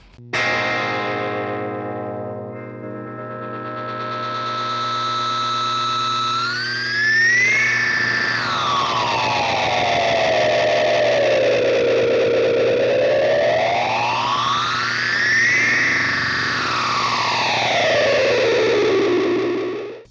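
Sustained electric guitar chord run through a sweeping effect pedal with its intensity knob adjusted, tone slowly rising and falling in long, wavering swells, loud and alone.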